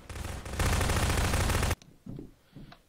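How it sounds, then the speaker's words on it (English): A grenade launcher fires in the Prop Hunt video game, a loud sustained burst of gunfire-like noise lasting over a second that cuts off abruptly, followed by quieter scattered game sounds. "Shooting my grenade."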